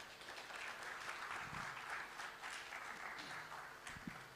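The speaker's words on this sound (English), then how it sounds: "A round of applause." Audience members at a budget discussion forum give a round of applause, a steady moderately distant clapping that is fairly faint overall and carries a few low knocks and murmurs.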